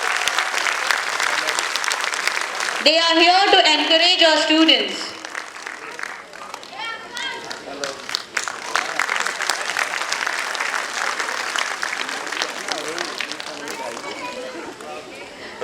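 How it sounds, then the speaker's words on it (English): Dense audience applause at a school annual day, loud and continuous throughout, briefly mixed with a voice speaking over a loudspeaker and a short stretch of music, then clapping carrying on under talk. "Everyone, please give a big round of applause."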